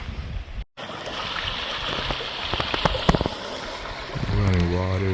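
A small stream runs steadily in a quiet outdoor spot, its broadband water rush filling the background throughout, with a brief dropout early on and a voice-like tonal sound rising near the end.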